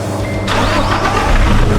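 A diesel engine running on premium diesel cranks without catching, giving a loud, close, continuous churning whir for nearly two seconds with no voices.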